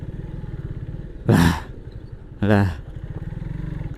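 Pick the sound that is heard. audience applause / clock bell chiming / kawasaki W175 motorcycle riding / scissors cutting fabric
kawasaki W175 motorcycle riding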